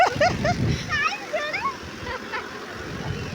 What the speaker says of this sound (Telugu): అరే వాటర్ పడుతున్నాయి వాటర్ పడుతున్నాయి